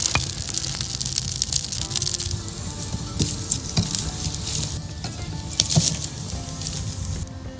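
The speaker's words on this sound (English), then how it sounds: "Now to get the fire going, we're going to smoke this fish with some chunks of maple" Maple wood chunks catching fire in a fish smoker, a steady crackling sizzle with scattered sharp pops, close and continuous throughout.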